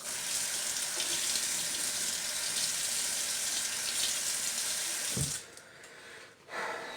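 A bathroom tap runs water into a sink for shaving, a steady hiss and splash for about five seconds before it is shut off, followed by a quiet pause and a brief shuffle.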